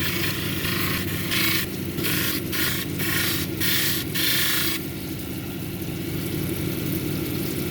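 A lapidary grinding wheel at 280 grit whirs steadily while shaping a banded jasper cabochon; a bright scraping grind cuts in and out in short bursts as the stone is pressed on, then the motor hums alone.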